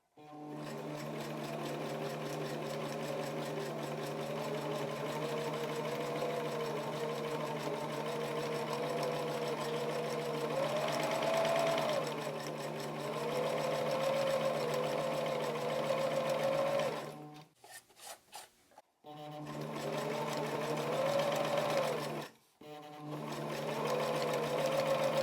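A sewing machine runs steadily while stitching a fabric bowl cozy, a continuous close mechanical whir that briefly stops twice near the end before resuming.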